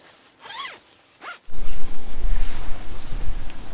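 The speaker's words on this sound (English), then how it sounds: "And you have a zip here." A zipper being opened on a shower tent attached to a modified Toyota Troopy: two quick rising zips, then one long loud continuous zipping run, close and with no voice.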